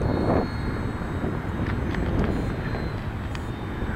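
An Eleven Hobby F8F RC airplane engine running at quarter throttle, a continuous mid-distance drone with wind buffeting over it, no talk.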